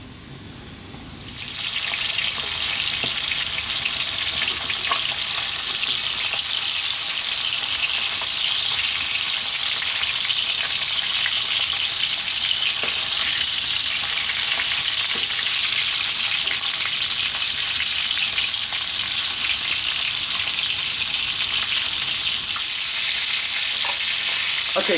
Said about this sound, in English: we're just going to drop the fish in. And we're going to fry this for about 5 or 6 minutes, turning it often